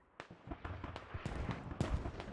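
Mortar rounds impact in a combat video game, a rapid series of sharp distant blasts and cracks, several overlapping bursts in about two seconds over a low rumble.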